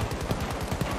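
Rapid automatic gunfire in Battlefield 2042, a tight burst of quick repeated shots that is steady and close for about a second, with no voices.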